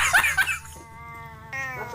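A tomcat gives a drawn-out, wavering meow after a burst of rougher yowling, close and fairly clear, with no one talking.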